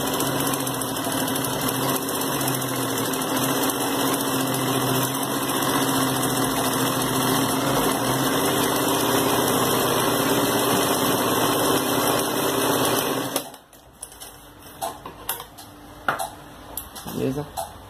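A sewing machine runs steadily, stitching a straight seam on a personalised fabric pouch, a continuous close whirring hum for about thirteen seconds that then stops, followed by quieter handling sounds.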